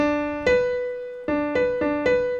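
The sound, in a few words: major sixth interval played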